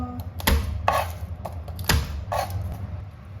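A knife chops garlic on a cutting board with about six firm, evenly spaced thuds over a low room hum.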